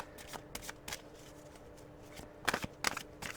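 A deck of tarot cards being shuffled close up, a quick series of soft riffling and flicking bursts with a few sharper slaps near the end, with no talking.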